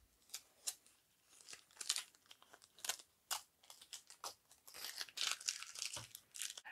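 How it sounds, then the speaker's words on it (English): Tape peeled off a guitar fretboard in short, quiet ripping and crinkling bursts, irregular and close, growing busier toward the end. "So now we'll just remove the tape and we're ready to restring this guitar."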